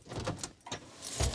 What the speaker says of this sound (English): Got to put our windows all the way up